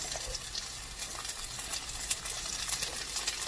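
Onions fry in a pan with a steady, soft sizzle, a continuous crackling hiss at low volume with no talking.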